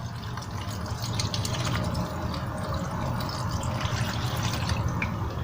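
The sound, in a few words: pouring pickling brine into a jar of onions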